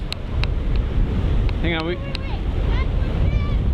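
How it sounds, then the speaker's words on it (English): Glacier meltwater rushing out in Iceland, a steady broadband wash of water and wind noise throughout, with a voice speaking briefly over it partway through. "All the water is rushing out."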